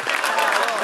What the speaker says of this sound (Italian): qui solitamente c'è un applauso